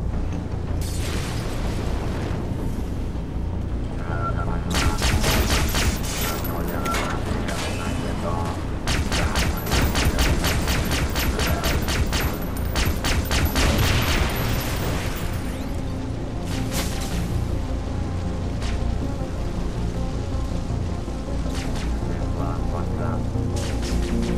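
Rapid bursts of gunfire and booming explosions crackle throughout, dense and loud, in Far Cry 3: Blood Dragon on PS3, with a voice talking underneath.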